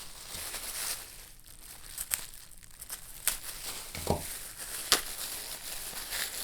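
Plastic packaging for a dollar-store Halloween excavation kit toy crinkles and crackles up close while it is cut and pulled open, with sharper snaps and tearing bursts scattered through the rustling.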